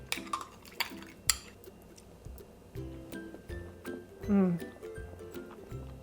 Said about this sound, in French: Et là, on peut venir tout mélanger pour le manger.